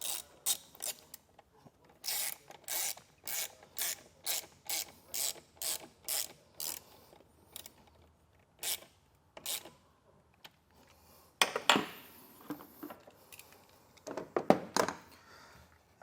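Ratchet wrench tightening a fastener while installing a T-connector trailer wiring harness on a 2024 Kia Telluride, a steady run of rapid close clicks in bursts, then a pause and a few louder rasping turns near the end.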